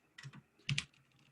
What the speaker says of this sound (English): keyboard's very loud.